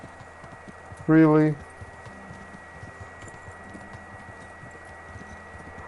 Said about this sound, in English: I'm on a pretty fast horse